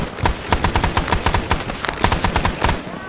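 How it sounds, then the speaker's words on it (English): Rapid volleys of gunfire in a Vietnam-era SOG combat video game, overlapping rifle and machine-gun bursts rattling steadily as squadmates lay down covering fire on the enemy, loud and close throughout. "cover fire as they fire off on the enemy here"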